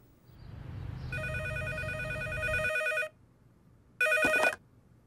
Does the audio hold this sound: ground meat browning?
no